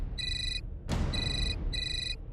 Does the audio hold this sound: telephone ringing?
yes